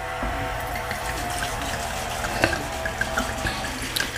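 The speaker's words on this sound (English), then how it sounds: "I'm gonna add maybe half or almost half of the vodka." Vodka pours from a bottle into a 3-gallon jug while making punch, a continuous gurgling liquid stream with a few small splashy knocks and glugs, close and moderately loud, no voices.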